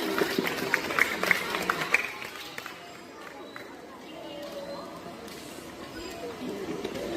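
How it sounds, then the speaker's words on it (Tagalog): Audience applause at a graduation ceremony: a burst of many hands clapping, loudest over the first two seconds, then thinning into softer crowd murmur and chatter. "Isang malakas na palakpak po para kay Santa Girl."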